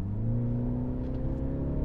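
A 2021 Mini Cooper S Countryman ALL4 engine and exhaust hum steadily at close range, a smooth even drone holding at a constant pitch without any speech.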